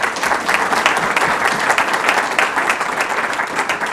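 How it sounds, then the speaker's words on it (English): An audience at a 2024 Trenton state of the city address applauds loudly, dense sustained clapping from many hands filling the room with no speech over it. "they certainly deserve a huge round of applause"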